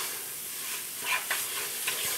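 Oil halva browning in a pan as it is stirred, faint scraping strokes and soft sizzling at a low level, with a few brief louder scrapes.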